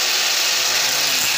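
A power tool cuts through square metal tubing meant for an electric motor board's main chassis, giving a steady, loud, harsh high-pitched whine and grind that holds without a break and with no talking.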